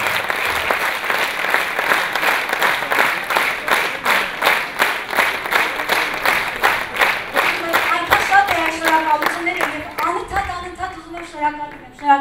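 Concert audience applauding at an Armenian event in Artsakh in 2019, a dense rhythmic clapping that swells and fades over about ten seconds while a voice speaks over it near the end.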